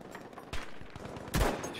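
Gunfire in the video game Battlefield V: a couple of sharp, loud shots stand out amid a busy, continuous din of distant battle noise.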